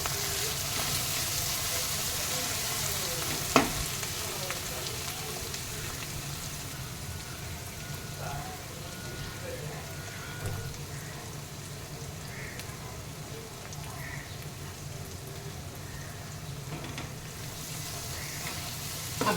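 Coriander, cumin, red chili and Kashmiri chili powders with chili flakes fry in oil for a prawn masala, giving a soft, even, continuous sizzle like light rain, with an occasional faint clink.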